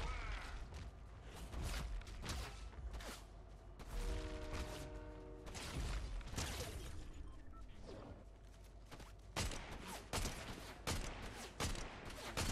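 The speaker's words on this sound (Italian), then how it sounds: "Qualcuno ci sta sparando." Gunfire in Fortnite, a rapid burst of sharp shots scattered through the clip amid game sound effects and mechanical clatter, with no talking.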